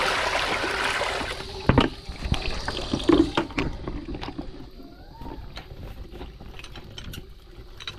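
Water sloshes and trickles as it is drawn and poured through a filter at home, with irregular splashes and knocks from containers, loudest early on and settling into a quieter ongoing trickle.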